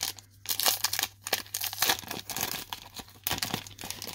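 A Prizm bonus card pack wrapper is torn open by hand, with close, crisp foil crinkling and ripping in uneven bursts, plus a low steady hum underneath.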